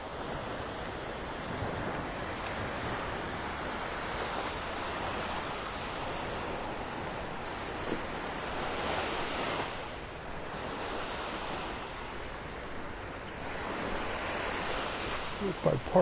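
Steady ocean surf washes onto the beach at Delnor-Wiggins in North Naples, Florida, a continuous roar of breaking waves with wind buffeting the microphone throughout.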